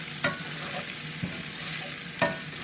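Fried rice sizzling in a HexClad pan after soy sauce is added, a soft continuous sizzle broken by a few sharp stirring scrapes, close and fairly quiet.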